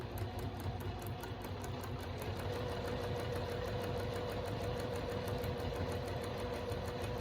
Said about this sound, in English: now I'm going to go ahead and sew my 1/4 inch seam